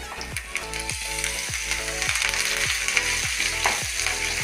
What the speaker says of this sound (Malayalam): പിന്നെ നമ്മൾ കഴുകി വൃത്തിയാക്കി വെച്ച വേപ്പിലിടാം.